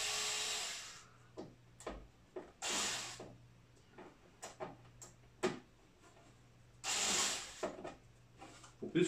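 Screws are worked loose from a Crunch car subwoofer in a living room, with irregular creaks, clicks and scraping twists of a screwdriver in bursts, close up with no talk.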